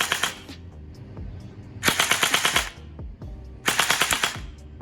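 Bursts of full-auto fire from a Glock 18C gel blaster, three rapid rattling volleys of about a second each, close and loud, separated by short pauses with quieter clicks in between.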